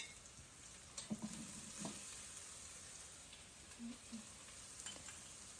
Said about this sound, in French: Une fois l'huile chauffe, maintenant je mets les échalotes